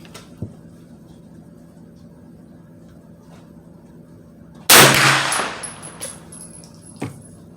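One sharp, loud shot from a 9mm Ruger PC Carbine, outdoors at a range, followed by a decaying boom and a fainter later report, after several seconds of quiet background.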